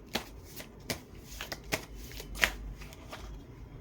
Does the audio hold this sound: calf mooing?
no